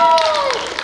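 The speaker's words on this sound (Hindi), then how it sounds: "ताली बजाऊ दिलीप भाई" Audience applause at a musical mehfil evening of a convention, a brief burst of hand clapping from a crowd, fairly loud and close, with a voice briefly over it.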